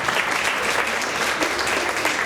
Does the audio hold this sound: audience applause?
yes